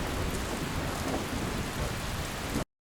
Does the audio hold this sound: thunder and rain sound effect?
yes